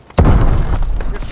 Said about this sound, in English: Launching a stun grenade!